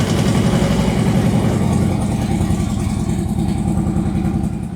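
A motorcycle engine, just fitted with a fixed throttle and a Stage 2 ThunderMax tune, idles loudly and steadily up close. The deep, continuous rumble barely changes throughout.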